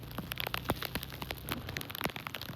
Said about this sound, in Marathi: खूप जोरदार पाऊस, मुसळधार पाऊस चालू आहे, बघू शकता.